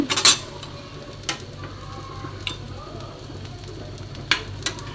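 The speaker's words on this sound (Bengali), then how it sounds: "আমাদের যে বাকি আরেকটি রুটি আছে সেটাকেও আমরা ভেজে নিব" Roti fries in oil in a pan with a soft, steady sizzle, broken by a few clinks and scrapes of a utensil against the pan, and no one talks.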